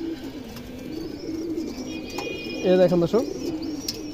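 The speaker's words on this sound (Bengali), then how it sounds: "এটা পুরান ব্লাডের একটা কবুতর" An old-bloodline pigeon coos close by in low repeated calls, with a louder rolling coo near the end while someone talks over it.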